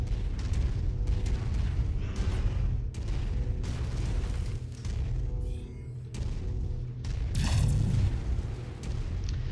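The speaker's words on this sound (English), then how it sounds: "Something is shooting at me, and I don't like it." Enemy mechs open fire in an urban mech combat game, a dense barrage of loud booming blasts and bursts rolling continuously with a sharper crackling impact near the end, no talking.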